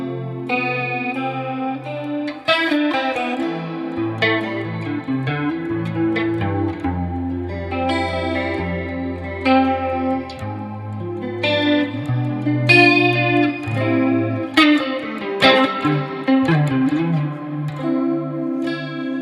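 A guitar plays long sustained chords through a shimmering, watery chorus effect, with a slightly wavering modulated tone and gentle picked notes.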